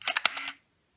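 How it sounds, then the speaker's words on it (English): Canon EOS 3000 SLR film camera firing its shutter indoors on a table: a quick cluster of close, sharp mechanical clicks and a brief whirr of the mirror going up and down, lasting about half a second, then silence. "As you can see, the shutter goes up"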